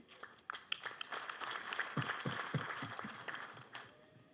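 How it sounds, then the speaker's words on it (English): Audience applause at a SACCO annual general meeting, a dense patter of clapping hands sustained for several seconds at moderate, steady loudness. "I think we need to applaud you"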